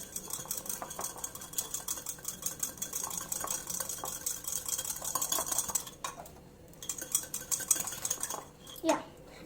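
Salt and milk being mixed in a bowl for an egg omelette: a continuous rapid clinking and scraping of a utensil against the bowl, with brief pauses near the end.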